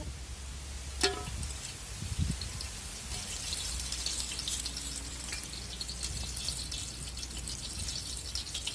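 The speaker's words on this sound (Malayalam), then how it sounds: "ചൂടായതും ഇതിനകത്ത് നമ്മൾ ഈ ഹോൾ സ്പൈസസ് ഇട്ട് കൊടുക്കുകയാണ്" Cinnamon and cloves sizzle in hot oil, a soft, steady crackle with a few sharper pops at the start, fairly quiet and continuous throughout.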